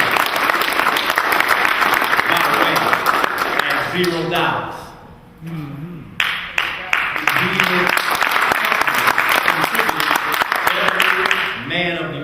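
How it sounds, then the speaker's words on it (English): Loud, dense applause fills a town hall meeting about Oscar Grant, with a brief spoken interjection and a dip in the clapping midway before it surges back and continues steadily. "let's give Brother Eric a big round of applause"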